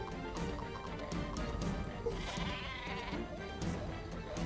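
Sheep bleat in a Worms video game over dense game sound effects and crashing noise, with a wavering cry near the middle.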